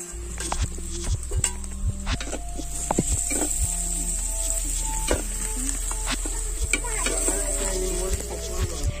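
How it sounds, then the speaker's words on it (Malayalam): Garlic and kanthari chili sizzle in hot oil in a frying pan for a leaf thoran, with steady frying hiss and frequent scraping clicks of a spoon stirring against the pan, close and continuous. "അപ്പൊ ഇളക്കിക്കൊണ്ടിരിക്കാം."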